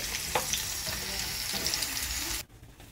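Garlic frying in hot oil for Schezwan sauce, a dense steady sizzle with small crackles and stirring scrapes that cuts off abruptly near the end, followed by quiet.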